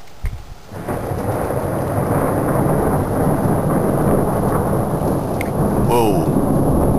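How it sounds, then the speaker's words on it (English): Thunder rolls through a thunderstorm in Edmonton in May, a loud, sustained rumble with steady rain underneath, lasting nearly the whole stretch after a brief quieter start. "There goes the thunder."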